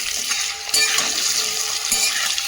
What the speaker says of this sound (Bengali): ওই জন্য একটু আলুগুলোকে হাই ফ্লেমে একটু ভেজে নেব